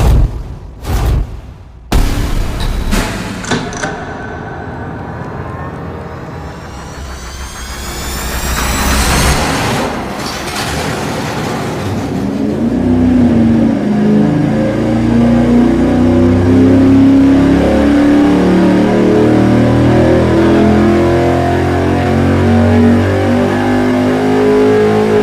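V8 street engine on a dyno cranking and catching in a few sharp bursts, then settling into a rising, loud sustained rev that holds strong to the end.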